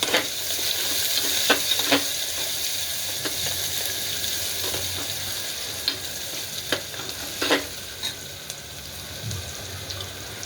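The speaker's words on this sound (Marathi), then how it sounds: "आता आपण तेलामध्ये फ्राय करून घेऊया" Chopped chillies and finely chopped onion sizzle and crackle steadily in hot oil for khichdi, close and continuous, with occasional stirring scrapes and small pops.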